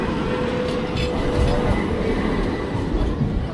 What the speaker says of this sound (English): Wow, it's infinity tram.